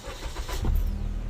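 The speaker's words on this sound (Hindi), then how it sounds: "गाड़ी स्टार्ट किया" A car engine starts with a brief cranking burst, then catches into a steady low idle rumble that holds close and loud to the end, no voices present.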